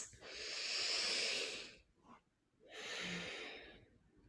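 Slow breaths during a seated yoga session, two long airy exhalations with a short pause between them, close and soft with no talking.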